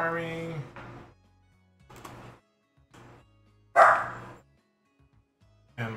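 Dogs bark indoors during a Pokémon game session, giving a few sharp barks and yips at a middle distance with gaps between them, while someone talks over them.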